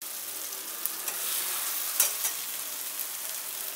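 Spice masala for raw jackfruit kofta curry sizzles in a pan as water is poured in, a continuous hiss that swells into a brief sharper burst partway through, with a few light clicks.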